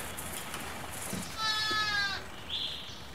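Lambs bleating in a barn, a clear drawn-out wavering bleat near the middle followed by a shorter higher cry, against quiet background.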